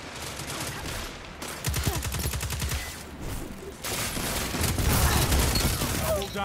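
Auto rifle gunfire in the Destiny 2 PC beta during a multiplayer zone-capture match, heard as loud, sustained rapid-fire bursts with brief pauses and dense game effects.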